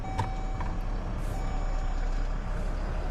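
A GMC pickup truck in reverse gives a few short, evenly spaced backup beeps over a low, steady engine rumble.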